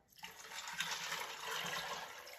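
Liquid poured from a jar into an Instant Pot makes a steady, rushing gurgle. It starts abruptly and continues fairly evenly for a couple of seconds at low volume.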